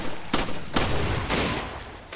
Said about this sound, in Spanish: Pero, tío, ¿por qué me tiras petardos?